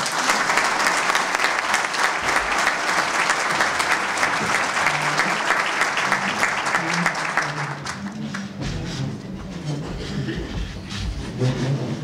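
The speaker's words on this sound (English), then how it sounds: "let's have a warm round of applause for the main event, our distinguished president" An audience at a college presidents' breakfast applauds its president with sustained, dense clapping. The clapping thins after about eight seconds as murmuring and a voice come through at the end.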